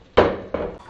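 Eggy in the basket, an egg fried in a slice of bread, is flipped in a frying pan, making two sharp close thumps a moment apart, each followed by a brief sizzle.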